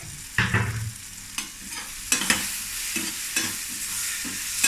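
A South Indian dish seasoned with asafoetida is stirred in a sizzling pan, with irregular close scrapes and clacks of the spoon over a steady frying hiss.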